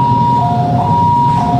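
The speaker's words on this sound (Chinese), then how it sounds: "救护车赶抵现场" Ambulance siren arriving at a highway crash scene on National Highway 3 in Taiwan, a steady wailing two-tone wail held loud and close over low traffic rumble, no voices.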